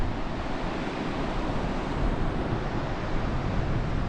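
Surf rolls onto a rugged, rocky coastline, a continuous broad wash of waves mixed with wind buffeting the microphone, steady and moderately loud with no talking.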